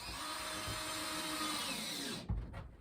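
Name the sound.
power drill drilling through fiberglass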